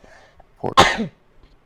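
A single sharp, close sneeze bursts out loudly, preceded by a brief inhaling catch, with faint speech before and after.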